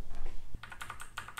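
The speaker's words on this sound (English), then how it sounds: "I'm just using a keyboard." A computer keyboard, used in place of a game controller, clatters in quick, irregular keystrokes after a soft thump, close and clear with no talk over it.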